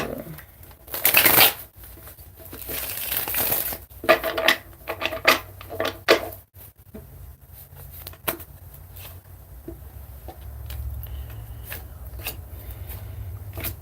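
Cards being shuffled: quick riffling bursts and flutters, close by, coming in several uneven rounds with brief pauses between them.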